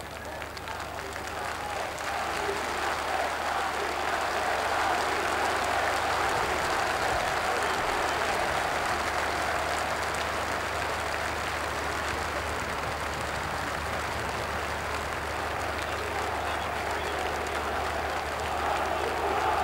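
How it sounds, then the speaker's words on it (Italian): A crowd applauds at an outdoor funeral for Italian politicians: sustained, distant clapping from many people, even and continuous throughout, forming a dense wash of sound. "Ecco ancora gli applausi"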